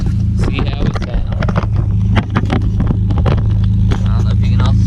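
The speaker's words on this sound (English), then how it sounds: "Let's give it a few revs. See how it sounds." A Mitsubishi Eclipse engine, with some old oil on it that smokes a little, revs through its exhaust, giving a steady low rumble with rising pushes, close by and mixed with wind noise.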